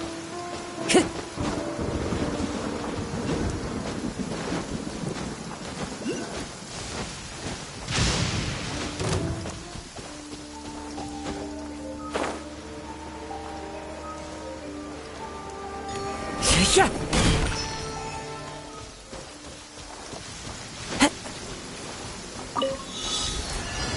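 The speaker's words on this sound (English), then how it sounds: "Compared to the storms I've encountered out at sea, this is really quite tame." A thunderstorm with steady rain falling throughout, broken by a few loud, rumbling thunder bursts that swell and fade, with no voices.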